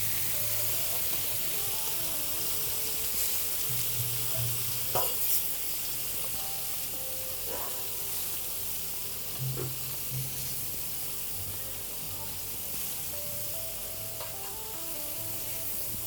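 Venison meat fries in a pan with a constant soft sizzle and hiss, punctuated by occasional sharper crackles and spatters as the meat cooks, fairly quiet and close with no talking.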